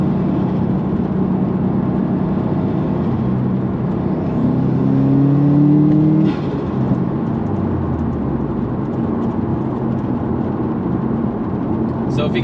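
A car engine fitted with a GrimmSpeed blow-off valve runs steadily, rising briefly in a rev around the middle before settling back as RPMs drop low, with a faint whir throughout and no clear talk.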